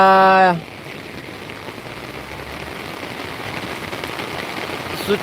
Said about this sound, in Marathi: फुल मोठा पाऊस पडत आहे